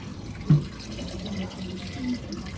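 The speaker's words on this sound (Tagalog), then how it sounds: "Buta nga sa tubig." Water is poured into a cooking pot as a continuous, soft splashing stream with a small burst near the start. It is heard close by, with no talk over it.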